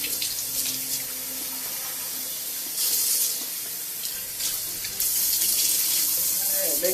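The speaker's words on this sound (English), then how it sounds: "making sure the water runs clean" Tap water runs steadily into a sink while a human hair wig is rinsed under it, a continuous close hiss of flowing and splashing water that grows louder in bursts as the stream strikes the hair and basin.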